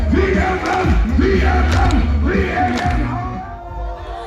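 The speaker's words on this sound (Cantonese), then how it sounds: "除咗路嘅兩旁有好多觀眾歡呼吶喊之外，亦都放晒煙火咁樣" A large crowd of spectators roars and chants in rhythmic waves of cheering at the start of a mountain marathon in Vietnam, loud and close, with scattered thumps of fireworks underneath.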